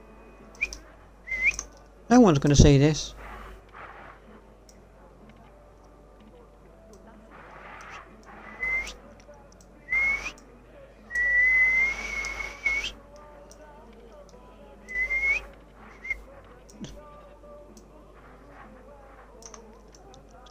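A person whistles short, scattered tune fragments indoors, mixed with keyboard typing and mouse clicks, with people talking and a sharp clattering burst early on.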